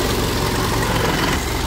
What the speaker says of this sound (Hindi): ट्रैक्टर को स्लो रेस पे स्टार्ट रखना है